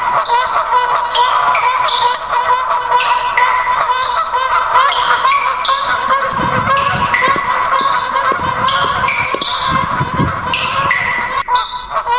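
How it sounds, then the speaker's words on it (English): Geese honk repeatedly in a Minecraft sewer pond ambience, a dense, loud overlapping chorus of nasal calls with echo, continuing throughout over a constant background hum. "You can hear the sounds of the geese in the pond."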